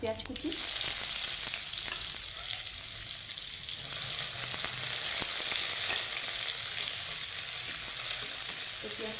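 Onions frying in mustard oil in a wok with dried red chilli and black cumin seeds, a steady loud sizzle throughout with occasional stirring scrapes.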